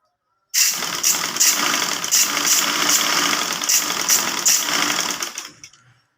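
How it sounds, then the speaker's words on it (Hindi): A sewing machine runs steadily while stitching a shalwar, a fast even mechanical whir with a regular rhythmic clatter that lasts about five seconds before it winds down and stops. "देखें 2-3 टाँके उठा लिए हमने।"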